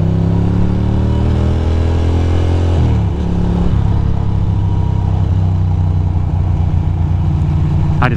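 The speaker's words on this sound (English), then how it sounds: "Some motorcycle rider behind me" A Ducati motorcycle cruising close behind on a highway toward the Tappan Zee Bridge and I-87, its steady engine drone loud and continuous with a brief pitch shift midway, no talk over it.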